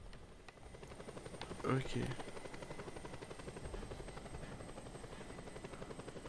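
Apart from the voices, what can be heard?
helicopter in Just Cause 2 video game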